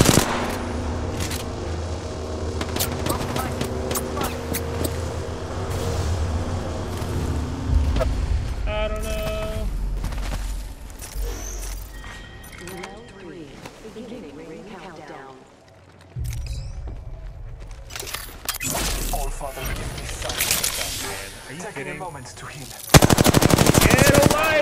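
Gunfire in the Apex Legends battle royale game, with rapid automatic bursts and single shots in irregular volleys, near and loud at times, mixed with game effects and players talking.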